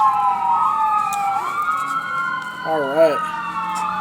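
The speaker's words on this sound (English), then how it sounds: "Some sirens going on tonight" Several emergency sirens wail at once, one warbling rapidly, while someone briefly speaks over them.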